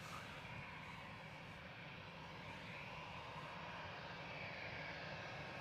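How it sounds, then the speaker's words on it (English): An EasyJet Airbus A320 Classic departs Manchester Airport for Palma de Mallorca, giving a faint, distant, steady jet engine roar that holds throughout without a break. "EasyJet 7270 to Palma de Mallorca going now."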